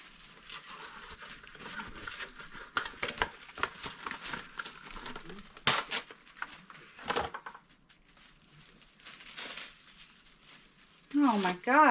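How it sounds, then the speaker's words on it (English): Plastic cling wrap crinkles and rustles in a busy stretch of crackles and taps, close up, with a few sharper snaps and a brief squeak near the end. "the fight with the saran wrap"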